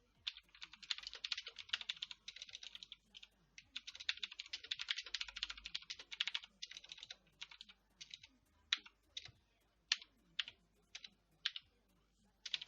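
Rapid typing on a QWERTY keyboard in Windows 1.0 Notepad, dense bursts of key clicks that thin out into slower, separate keystrokes near the microphone, with no speech.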